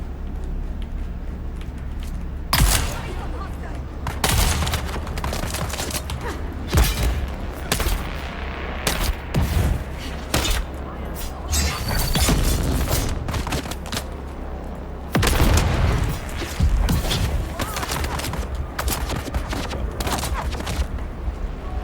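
Rapid gunfire from a weapon in the Dune Awakening video game, repeated bursts of sharp shots over a steady low rumble, loud and close, continuing through most of the stretch with brief pauses.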